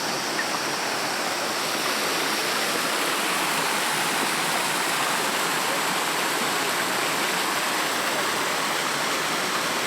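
A muddy rainforest creek flows steadily after rain, a constant close rushing wash of water with no breaks.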